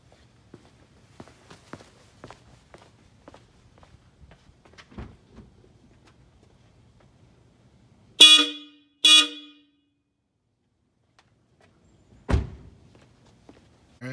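Aftermarket Hella horns on a Subaru XV Crosstrek blasted twice in short loud bursts outdoors, after quiet footsteps and handling thumps, with a heavy thunk following later.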